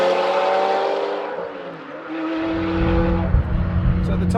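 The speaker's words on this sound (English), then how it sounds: "It's got a full Capristo exhaust system," A Ferrari F430 fitted with a full Capristo exhaust revs up in a steady, rising wail, with a deep low rumble building underneath partway through; a voice talks over it.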